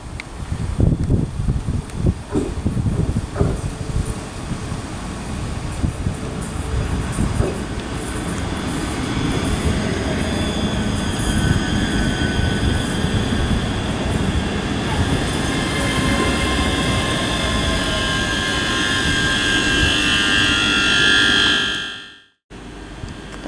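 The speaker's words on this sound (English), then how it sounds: "Okay, pulling in now, we've got another 385 terminating from Falkirk Grahamston." A Class 385 electric train pulls into Dunblane station, a steady rolling rumble with wheel and rail noise and faint squeal building close by, ending abruptly.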